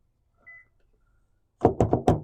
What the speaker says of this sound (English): that'll lock the doors